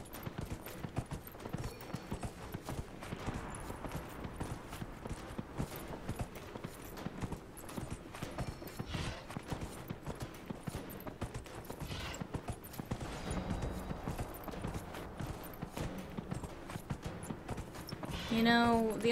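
Steady clip-clop of horse hooves at a walking pace in the video game Dragon Age: Inquisition, fairly quiet, with someone talking over the rhythmic footfalls.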